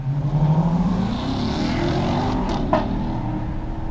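A Mitsubishi Colt GTI engine revving loudly from the cabin, a rising then droning roar with a short sharp pop near the end, steady and close.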